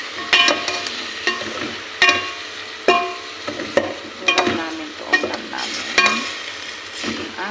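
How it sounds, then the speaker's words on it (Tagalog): Chicken seasoned with salt and pepper is stirred in a pan, a utensil clattering and scraping in repeated sharp strokes over a light sizzle, close and distinct with no speech. "Siyempre haluin natin."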